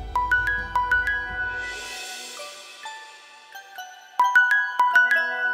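A mobile phone rings with an incoming call, playing a bright, repeating electronic melody in short phrases. The ringtone pauses briefly and then resumes, with a low rumble fading out near the start.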